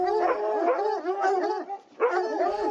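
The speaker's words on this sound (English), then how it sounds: "Sentry dogs. They'll arouse the whole castle." Sentry dogs at a castle bark and howl in close, overlapping bursts, a loud, continuous chorus that pauses briefly before starting again.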